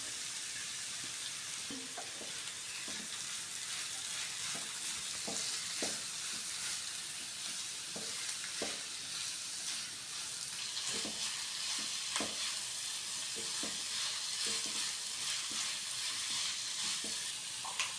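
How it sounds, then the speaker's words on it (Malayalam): Capsicum stir-frying with other vegetables in a pan for veg noodles, a loud continuous sizzle with occasional scraping stirs of a utensil. "ഇനി നമുക്കിതിലേക്ക് ക്യാപ്സിക്കം ആഡ് ചെയ്ത് കൊടുക്കാം."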